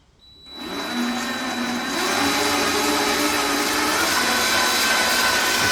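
A newly installed lathe switches on and spins up, settling into a loud, steady whine and whirring drone that runs continuously, close by, with no talking.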